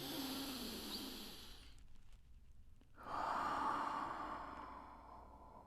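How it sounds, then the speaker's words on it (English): A slow, deep breath drawn in during a guided exercise session, a soft breathy rush that swells after a brief pause and holds steadily before fading, close and alone. "Let's take another deep breath in."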